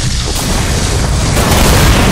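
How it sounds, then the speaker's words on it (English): A large explosion in the video game Half-Life: Black Mesa, a loud, sustained broadband boom with heavy low-end rumble that fills the whole moment without any talk over it. "that was a big ass explosion"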